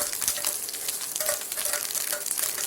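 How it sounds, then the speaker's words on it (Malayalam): Grated coconut sautés in hot oil with a dense, continuous close-up sizzle holding steady throughout, plus faint stirring. "ഇത് നല്ല തേങ്ങ അതൊരു ഗോൾഡൻ കളറാകുന്ന വരെ നമുക്കൊന്ന് വഴറ്റി കൊടുക്കാം"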